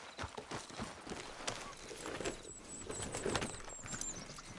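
A horse's hooves clip-clop in a steady trotting rhythm in Red Dead Redemption 2, fairly close and moderately loud, with faint ambient sounds behind.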